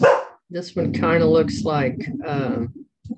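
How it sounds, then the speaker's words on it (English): A dog gives a short bark at the start, then a person talks steadily over a quiet indoor background. "Excuse my dog."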